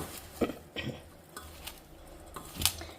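Flattened rice soaked with chopped onion being mixed by hand or spoon in a bowl, giving soft scattered taps and scrapes against the dish, a few sharper clinks, fairly quiet and without talk.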